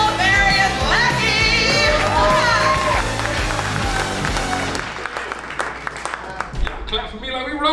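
A comedy roast audience at a Santa Claus roast claps and cheers as the next roaster is introduced, loud and dense crowd noise with music over it at first, then thinning into scattered applause.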